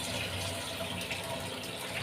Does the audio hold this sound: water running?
yes